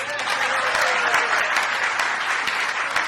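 Church congregation greets the pastor with continuous, dense applause, loud and even across the whole stretch, many hands clapping at once with no talk over it.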